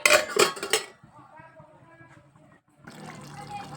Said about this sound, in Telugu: ప్లేట్ పెడదాం